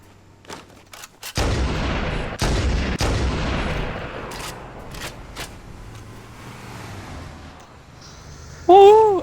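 Machine gun fire in Halo CE co-op play: loud, close bursts of rapid shots crack out in clusters, then trail into scattered distant pops and rumble, with a sharp high-pitched electronic effect near the end.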